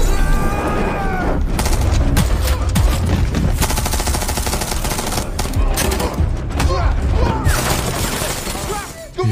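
Dense, continuous gunfire fills a hotel room in a film action scene as henchmen shoot at a man, with rapid bursts, sharp cracks and impacts layered over score and commotion, loud and close throughout.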